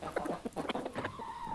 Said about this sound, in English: Today, my story is about a different common animal